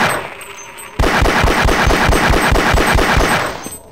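In Half-Life, a gun opens up after a second of quiet ambience and fires a loud, rapid string of evenly spaced automatic shots for about two and a half seconds before stopping.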